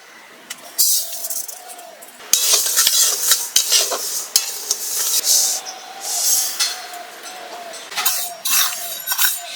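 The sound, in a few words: lentils being fried and stirred in a pot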